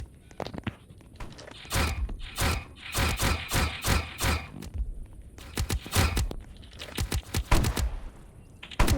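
Gunfire in the video game 99 Nights in the Forest: rapid bursts of shots in quick volleys, broken by short pauses, continuing throughout.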